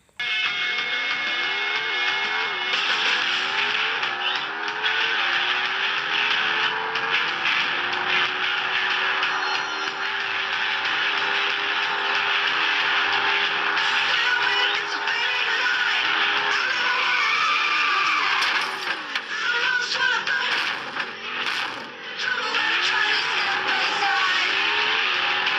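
A car driven in a mobile racing game, its engine droning loud and steady throughout with rising and falling revs and gear shifts.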